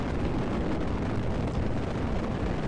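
Rocket engine roar during a launch in Kerbal Space Program, a steady, dense rumbling blast that fills the whole clip without letup.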